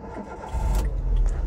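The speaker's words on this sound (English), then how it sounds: "Let's start the car" A 2015 Renault Duster RxE engine cranks and catches about halfway through, then settles into a steady, close low rumble with no talking.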